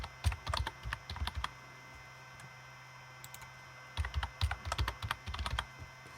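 Keys clatter on a computer keyboard as a password is entered during a Raspberry Pi setup, two quick bursts of close, crisp tapping separated by a pause of near silence.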